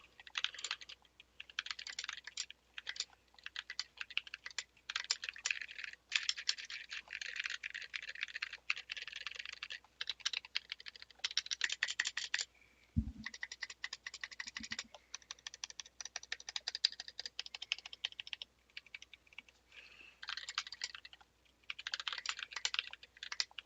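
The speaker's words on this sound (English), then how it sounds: "I'm also terrible at typing on SA because it's like the most awkward thing ever." A mechanical keyboard fitted with SA keycaps is typed on, rapid uneven bursts of clacky keystrokes with short pauses, close and alone with no talk.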